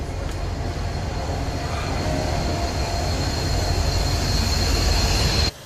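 Freight train, the migrant train known as The Beast in Mexico, rumbling steadily on its rails with a continuous close, loud roar and faint wheel squeal throughout, no talk.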